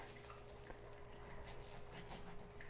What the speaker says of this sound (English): that's my dog. He's eating his snacks and drinking his water.